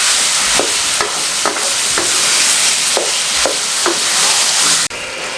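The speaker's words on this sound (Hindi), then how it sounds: "फ्राई कर लें, भून लें इसको अच्छे तरीके से।" Chicken stir-frying in a pan for kachori filling, a steady loud sizzle with regular scraping stirs about every half second, sounding alone.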